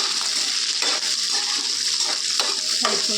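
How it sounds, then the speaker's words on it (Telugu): Green chillies frying in a pan for a coriander and curry leaf chutney, a steady broadband sizzle with occasional scraping stirs, close and continuous with no talk. "పచ్చిమిరపకాయలు వేసుకుందాం. ఇది బాగా కలుపుకుంటూ వేసుకుందామండి"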